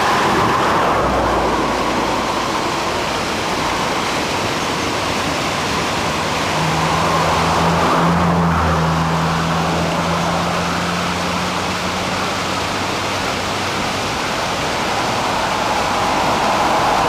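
A car passes on a road beside a waterfall, its engine hum rising and fading over several seconds midway through a constant loud roar of rushing water.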